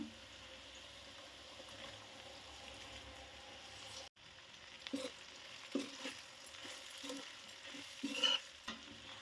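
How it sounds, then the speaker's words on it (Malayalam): Fried kanthari chillies tipped into a pan and stirred for a Kerala-style kanthari pickle, making faint, soft scraping and light sizzling that turns into short, scattered stirring knocks in the second half, with no talking. "ഇതിലേക്ക് നമുക്ക് ഫ്രൈ ചെയ്ത് വെച്ചിരിക്കുന്ന കാന്താരി ഇട്ട് കൊടുക്കാം"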